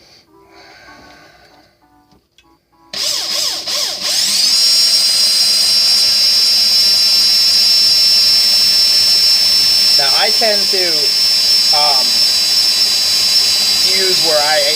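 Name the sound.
drill spinning to wind single core Clapton coil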